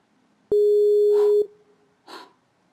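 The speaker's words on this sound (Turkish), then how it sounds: "Hemen şöyle 155 ara. Evet çalıyor." Phone call in a Minecraft series after dialing 155 (Turkish emergency number), heard as a single steady electronic tone lasting about a second, followed by faint breathy sounds.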